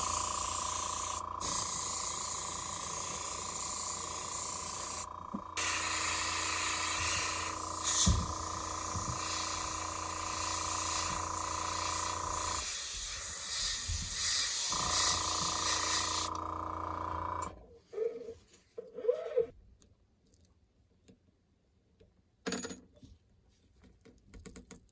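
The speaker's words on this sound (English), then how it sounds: "It looks good, but I got to spray less gold." Aerosol can spraying gold paint onto a handmade pike fishing lure, a steady close hiss running for most of the clip with brief pauses, then cutting off into quieter handling noises near the end.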